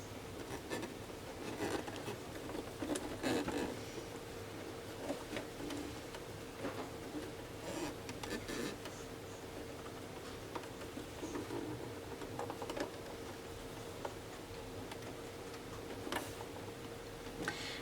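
A sewing machine stitches around a fabric scrunchie, a faint, steady run of quick ticking needle strokes over a low mechanical hum.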